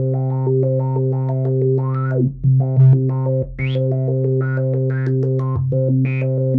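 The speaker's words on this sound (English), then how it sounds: "That's the classic filter sample and hold effect." An analog modular synthesizer plays the classic filter sample and hold effect, a steady drone whose filter jumps to a new random setting on each clock step, producing a quick stream of stepped, bubbly tones, loud and continuous with no voices.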